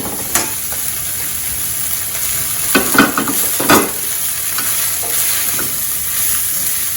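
Cooked rice is tipped into a pan of ghee-fried pepper and stirred, giving a soft continuous sizzle broken by a few louder scraping, tossing bursts of the spoon against the pan.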